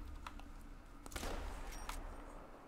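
Shotgun blasts aimed at javelina in theHunter Call of the Wild: a burst of sharp reports about a second in, with a couple of smaller cracks afterward, ringing out over a steady low rumble of outdoor game ambience.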